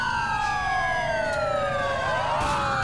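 Several police sirens wail and sweep together in the video game GTA IV, their overlapping tones rising and falling loudly and continuously without pause.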